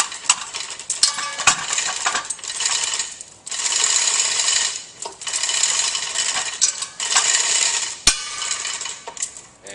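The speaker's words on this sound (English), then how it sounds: "The next step will be to remove the motor from the motor stool." Metallic clanking, scraping and ratcheting as a motor is unbolted and removed from the motor stool of a Pentax horizontal centrifugal pump, coming in close, bursty stretches of clattering broken by brief clicks and pauses, without speech.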